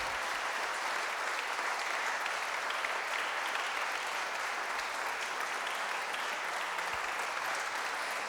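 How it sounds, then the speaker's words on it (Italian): Steady, dense applause from a crowd for a choir at a convention in Belluno, sustained and even throughout without a break. "Forza forza con l'applauso"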